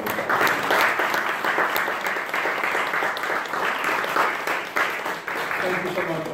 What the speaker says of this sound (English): so applaud yourself and Prof.